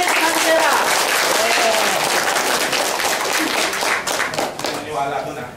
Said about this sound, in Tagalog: Isang palakpak, 2 palakpak, milyong palakpak para kay Chris Mancera.